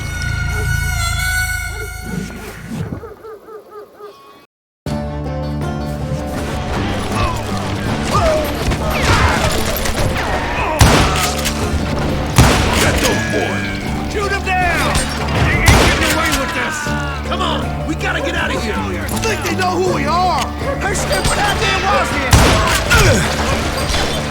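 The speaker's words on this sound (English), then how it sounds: "Bullets were flying every which way as all the old feuds in Kansas caught fire all at once" Dense gunfire rages in the Western shooter Call of Juarez: Gunslinger, bursts and booms layered under music and a narrating voice throughout.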